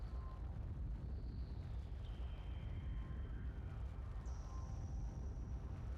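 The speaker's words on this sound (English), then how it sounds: "Why is there an earthquaking sound?" Deep, steady rumble of an earthquake in the Metroid Prime video game, continuous and moderately loud throughout, with faint tonal game sounds drifting above it and no talking.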